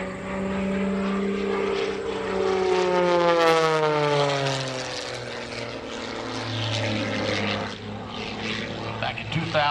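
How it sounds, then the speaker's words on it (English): An MXS aerobatic propeller airplane performs at the New York International Air Show, its engine droning loudly and sweeping in pitch as it passes, with an announcer talking over it. "Like I said, it is an amazing airplane, the MXS."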